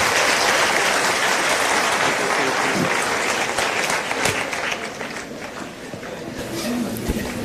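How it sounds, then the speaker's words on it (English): A lecture audience gives a thunderous round of applause, a broad wash of many hands clapping that stays full and even before gradually thinning toward the end, with no voices over it. "We have already given a thunderous applause"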